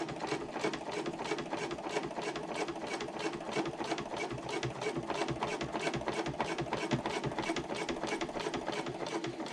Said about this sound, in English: I'm going to pivot once more and finish sewing across the bottom of the pocket